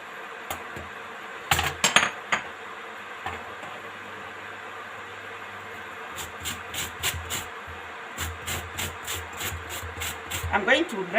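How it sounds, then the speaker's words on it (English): Lemon rind is rasped against a grater in repeated short scraping strokes, close and fairly soft, coming in irregular bursts with quiet gaps between them. "grind the rind out of the lemon"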